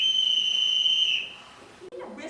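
A captain in a film scene blows a sharp, high two-tone bosun-style whistle call, steady for about a second before cutting off, followed by faint footsteps or movement.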